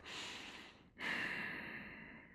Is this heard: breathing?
yes